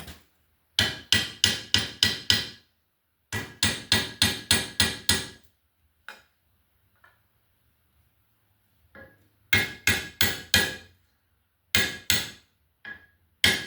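Rapid bursts of sharp metallic hammer blows driving a pin into a scale tang knife handle on an anvil, several quick strikes per group, with quiet pauses and a few lighter taps between sets.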